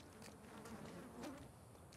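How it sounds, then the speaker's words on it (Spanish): Flies buzzing around garbage in the video game The Last of Us Part II, a faint, steady insect drone with a couple of louder swells as a fly passes close. "Se oye como cadáveres cuando hay mosca."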